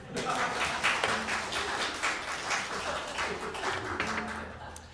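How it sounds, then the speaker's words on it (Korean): A church congregation claps along during a Sunday morning service, with rhythmic hand claps over singing voices and music throughout. "박수 한번 쳐주세요."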